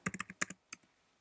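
Several quick keystrokes on a computer keyboard, entering a short search word, close and crisp in a brief burst of about seven taps followed by a pause and two softer clicks.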